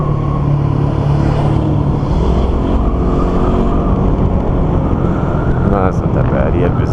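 A car passes on a winding road while a motorcycle rumbles loudly and steadily throughout, with a person talking over the engine and road noise.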